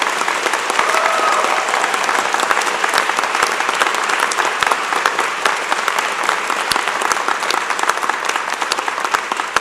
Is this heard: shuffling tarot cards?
no